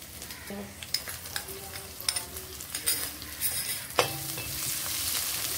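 Ginger and garlic paste frying in hot oil, sizzling steadily in the pan for a fish curry with bhedailota, with scattered spoon scrapes and clinks against the pot, at a fairly quiet level.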